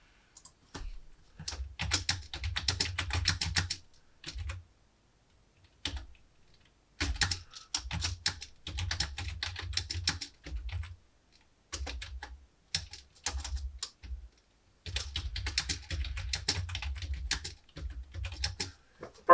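Someone types a Word document on a computer keyboard, producing bursts of rapid, close keystroke clicks separated by short silent pauses.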